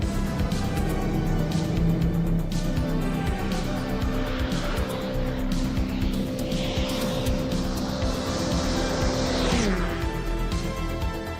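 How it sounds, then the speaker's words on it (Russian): A Mercedes-Benz 190 driven flat out in fifth gear at 6000 rpm during an endurance run, a loud sustained engine drone with steady harmonic tones that drop in pitch near the end. "Мерседесы двигались с максимальной скоростью на 5-й передаче при 6000 оборотов в минуту"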